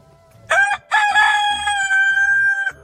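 A rooster crows loudly and close by, one short opening note followed by a long drawn-out call with clear harmonic tones, heard alone without talk.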